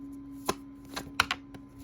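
Tarot cards being reshuffled sideways, a few quick crisp riffles and taps in close succession, near and fairly clear, with no talking.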